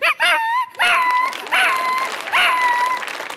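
A performer imitates a small dog with his voice, giving about four high, sharp yaps in quick succession, loud and close, on a comedy stage show.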